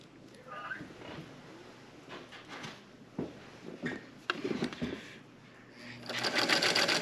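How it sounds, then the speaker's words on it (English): A home sewing machine starts stitching the seam of a prayer pillow, a brief whirring run at the end, after soft talk and handling noises. "Now we start sewing again."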